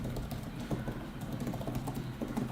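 Rapid, fairly quiet key taps on an Apple Magic Keyboard for iPad Pro, a continuous run of soft clicks heard close up with no talking.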